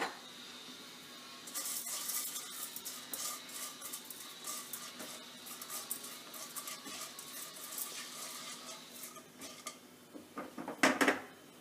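Chana dal roasts in hot oil in a pan with a faint crackle and patter, with scattered clinks of a spoon against the pan and a sharper metallic clatter near the end.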